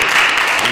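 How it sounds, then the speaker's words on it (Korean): Short burst of church congregation applause, a dense steady wash of clapping at moderate level with no gaps. "함께 영광의 박수"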